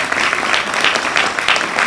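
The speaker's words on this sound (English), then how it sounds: "I think they deserve the round of applause as well." Audience at a doctoral hooding ceremony claps in a dense, steady round of applause that fills the hall, many hands at once with no voices rising above it.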